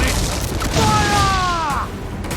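Ship cannon fire in the video game Assassin's Creed IV Black Flag, a loud booming burst with a falling tonal shriek over steady rumbling background noise.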